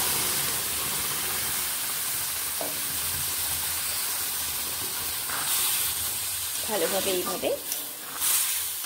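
Boiled red lentils (masoor dal) hit a hot pan of fried vegetable stems and are stirred, giving a steady soft sizzle and hiss with a few scraping stirs near the end, while someone talks.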